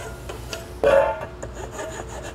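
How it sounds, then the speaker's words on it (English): A hand file rasps across the cut end of a metal RV ladder bar to clean off burrs, giving one short, loud scraping stroke amid quieter scraping and handling noise, with no talking. "we're gonna go ahead and just take a file and clean off all these burrs that are right here"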